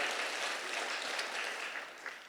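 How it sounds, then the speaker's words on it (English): Audience applause at a youth awards show honoring students, advisors and schools, a steady wash of clapping from a crowd that holds for a couple of seconds and gently tapers. "Can we give them one final round of applause tonight for the amazing work that they did?"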